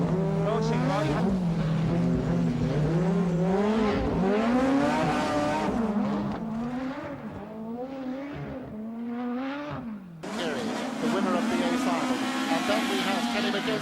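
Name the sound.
rallycross car driving on tarmac, third gear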